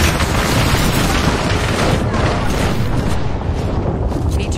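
Explosions from an airstrike in the video game Apex Legends, a dense, continuous rumble of booming blasts that fills the whole stretch, loud and close, with faint voices mixed in underneath.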